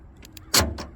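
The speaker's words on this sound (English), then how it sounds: "hit the lock button on my key fob, and my toolbox is going to lock" A truck bed toolbox with a keyed power lock engages from a key fob press, giving a short faint click followed by a louder, brief mechanical clunk and a second softer thump, heard alone.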